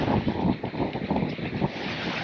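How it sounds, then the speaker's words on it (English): Gusty wind buffeting the microphone, a rough continuous roar rising and falling in bursts. "it's getting windy up here."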